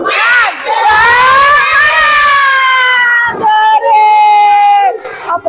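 Schoolchildren in an Indonesian classroom shout a loud, energetic spirit chant together, their high voices rising and falling in a few bursts across several seconds.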